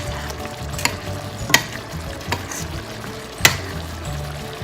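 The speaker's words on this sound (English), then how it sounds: "So the fish is starting to cook pretty rapidly." Small salmon pieces cooking in Madras curry sauce in a pan, a loud continuous bubbling sizzle with a few clinks of a utensil against the pan, close up.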